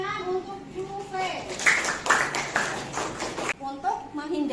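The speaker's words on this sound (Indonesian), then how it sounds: "tepuk tangan untuk Juve." Classroom applause for a student, a burst of clapping from a group of children lasting a couple of seconds, framed by a teacher's voice speaking before and after.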